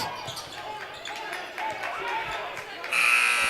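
A loud electronic buzzer sounds the end of the half at a 2020 SEMO Conference boys' basketball tournament game, arriving near the end over crowd noise, ball bounces and steady commentator talk.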